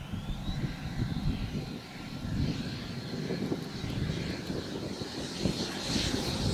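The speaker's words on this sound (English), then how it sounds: "HSD Jets, T-33, full throttle." An HSD Jets T-33 model jet with a 120mm electric ducted fan running at full throttle, a steady, high, whining rush of air under a broad roar, heard from a short distance at moderate loudness.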